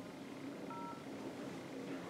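A short pair of telephone keypad tones sounds briefly, close and clear, while a number is dialed to call a township office, over a faint background hiss.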